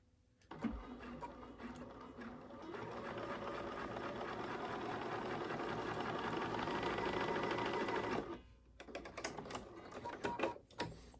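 A Bernina 535 sewing machine stitches knit fabric with the presser foot pressure lowered, a steady close mechanical whir that runs for about eight seconds and then breaks into a few short uneven bursts.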